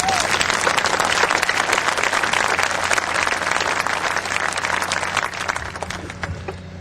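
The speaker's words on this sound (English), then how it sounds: "Give him a big round of applause" A rally crowd applauds the Los Angeles County District Attorney, a dense, steady wash of clapping that holds for several seconds at full strength before tapering slightly at the end.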